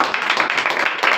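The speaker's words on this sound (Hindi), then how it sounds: "ताली मारिए।" Schoolchildren in a classroom clapping for classmates, a short burst of close, loud, rapid hand claps from a small group.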